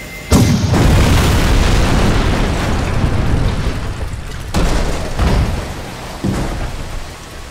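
A tank blows up in the video game Jak II with a loud, sustained rumbling boom, followed by a few more heavy blasts rolling over a dense, continuous wash of noise.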